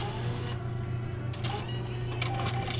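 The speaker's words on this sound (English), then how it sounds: "that's it for cans and printing receipt." Bottle and can recycling machine at a Stop & Shop in Belchertown, MA printing a receipt, a steady mechanical printer buzz with brief clicks and whirs, close and alone.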